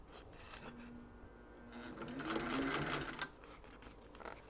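A sewing machine slowly stitches a seam on a faux leather beret, the motor whirring up and down in uneven bursts, loudest in the middle, with soft handling noise around it.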